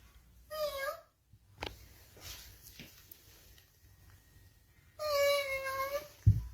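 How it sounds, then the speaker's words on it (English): Cat toy switching itself on, two short bursts of chirpy electronic meows separated by a few quiet seconds of faint background sound. "Her daughter's button activation cat toy turns on by itself, making noises."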